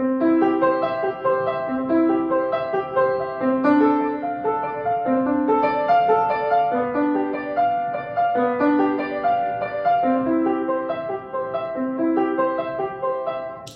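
Solo piano playing a flowing, evenly paced passage of steady notes in strict rhythm, moderately loud and without voices.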